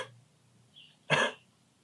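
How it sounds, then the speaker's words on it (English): A single short, soft pretend cough during yoga breathing practice comes after a moment of near silence, with a faint breath before it. "do a pretend cough"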